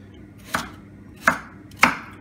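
A knife cuts sweet potato into large chunks on a cutting board for soup, three distinct sharp chops spaced about half a second to a second apart, close and clear with quiet between strikes.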